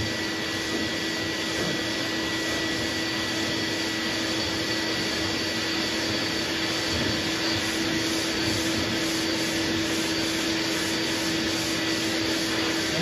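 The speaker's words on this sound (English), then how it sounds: "I'm not pushing really hard at all. Kind of just letting the sandpaper do its job." Sandpaper on a sanding block worked across the door of a 1949 Ford pickup truck, a steady, even rasping hiss held close and unbroken, with a constant machine-like hum running beneath it.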